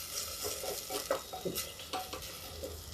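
Grated potato and lentil masala sizzles in a hot pan, with brief scraping stirs and light clinks of a spoon against the pan over a steady soft frying hiss.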